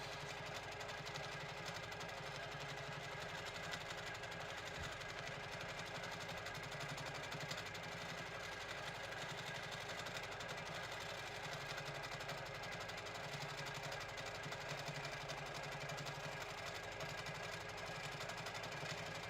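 A sewing machine hums steadily and continuously at close range during free-form graffiti quilting, a constant even mechanical drone with a faint rhythmic buzz and no breaks or talking.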